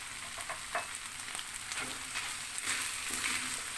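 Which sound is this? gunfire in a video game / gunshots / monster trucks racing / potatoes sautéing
potatoes sautéing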